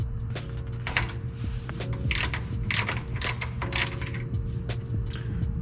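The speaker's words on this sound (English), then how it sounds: "and then we undo the drain bolt." Ratchet clicking in quick bursts as it undoes the rear differential drain bolt on a 2003–2009 fourth-generation Toyota 4Runner, close and fairly quiet, with a metallic gear-and-pawl rattle and no talking.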